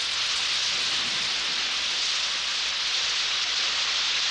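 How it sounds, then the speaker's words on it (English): Rain falling steadily in an animated island scene, a constant hissing wash of drops with no breaks or voices, even in loudness throughout. "Oh, it's raining."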